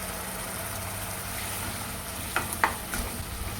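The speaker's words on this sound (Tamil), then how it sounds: "தக்காளி வந்து நல்லா கொஞ்சம் வதங்கணும்" Ground tomatoes with salt sautéing in a pan for chicken gravy give a steady, soft sizzle, broken near the end by a few brief spoon scrapes and taps.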